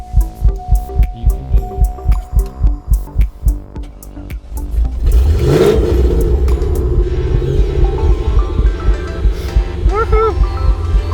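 A car cranks repeatedly in a rhythmic chugging starter whir during a cold start in snow, then catches and settles into a loud steady idle rumble, with a person calling out encouragement over the cranking.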